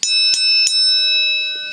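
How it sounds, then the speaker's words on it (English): A wrestling match bell rings three quick, bright strikes close up, each leaving a sustained metallic ring that fades over the following second with no talk. "Ring the bell."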